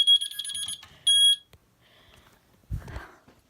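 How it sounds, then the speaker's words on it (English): A Notifier fire alarm panel sounding its trouble signal: two shrill, piercing electronic beeps in quick succession indoors, then near silence broken by a low thump and some faint rustling. "See, the troubles did go off."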